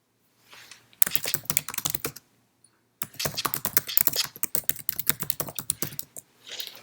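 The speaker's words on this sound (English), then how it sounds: "Let's type something." Typing on a computer keyboard, two bursts of rapid, close key clicks separated by a short pause, with no talking.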